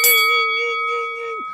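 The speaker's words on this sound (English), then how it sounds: "make sure you hit that notification bell like this." A single bright notification bell ding rings out loud and clean, holding a steady metallic tone for over a second before cutting off abruptly, with no other sound around it.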